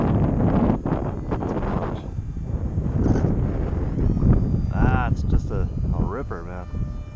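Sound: wind blowing while flying pizza box RC plane

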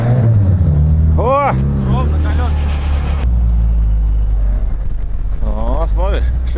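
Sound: car engine revving as it pulls off

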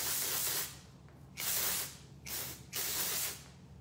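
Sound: dry volume hair spray being sprayed

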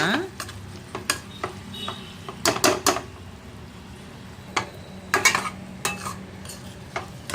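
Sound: iralikai seasoning mixture frying on low flame

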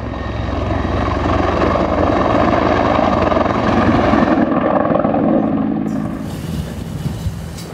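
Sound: firefighting helicopter flying over wildfire in Patagonia

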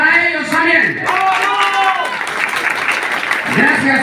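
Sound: crowd applause at a political rally

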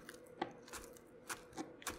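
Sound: chopping fresh herbs with a knife

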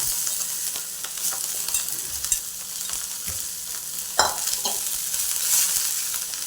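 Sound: chickpea leaves stir-frying in a hot pan

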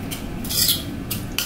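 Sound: mixing potato tikka masala in a bowl

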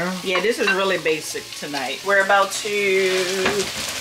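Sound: chicken fajitas frying in a pan

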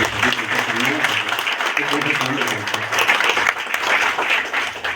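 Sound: audience applause

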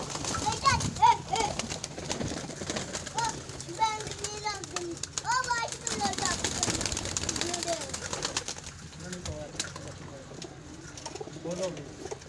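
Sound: pigeons in a home pigeon house

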